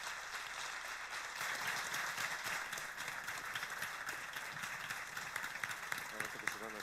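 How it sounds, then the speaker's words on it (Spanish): Moderate applause from an audience at a formal commemorative event in Pamplona, steady clapping throughout with faint voices mixed in underneath. "Un fuerte aplauso."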